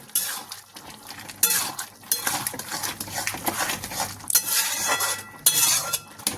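A spoon clinks and scrapes steadily around a metal cooking pot as chola dal is stirred and mixed with Red Cow ghee, with bursts of scraping over a soft, continuous sizzle.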